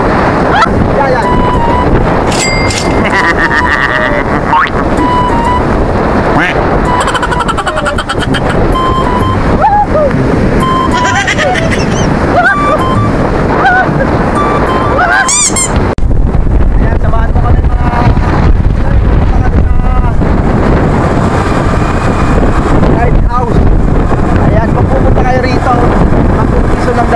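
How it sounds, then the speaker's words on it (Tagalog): Big ocean waves and strong wind on the coast at Pagudpud, Ilocos, a steady loud roar of surf and wind buffeting the microphone throughout, with people talking over it. "ang laki ng alon"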